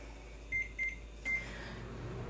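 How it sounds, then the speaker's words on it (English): A microwave oven melting three tablespoons of butter gives three short electronic beeps, then hums steadily with a low running drone, near and alone with no talking. "So I have my 3 tablespoons of butter. It's going in the microwave,"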